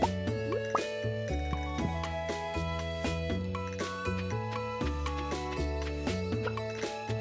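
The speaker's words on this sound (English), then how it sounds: "We're gonna fill our watering can." Video game watering can being filled in Stardew Valley: quick watery drip and plop effects play over bright, looping game music, with no talking.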